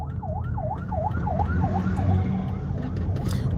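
An ambulance siren wails in a steady rising-and-falling cycle, loud and close, over a dense low rumble of surrounding traffic.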